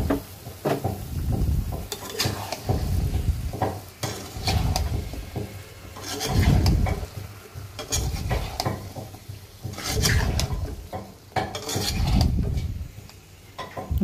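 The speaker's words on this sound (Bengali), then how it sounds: "এখন নেড়ে চেড়ে দিব।" Bottle gourd and snakehead fish being stirred in a pan, with rhythmic, heavy scraping and shuffling strokes that come in repeated waves, loud and close.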